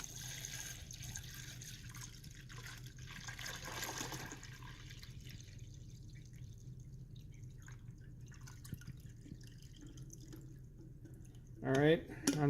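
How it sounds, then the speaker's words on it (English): Water from a pot pours slowly into a coffee maker's reservoir in a ship's galley at sea, a faint trickle under a steady low background hum, with a voice speaking nearby. "you're going to want a pot full of water, and you're going to dump it into that reservoir"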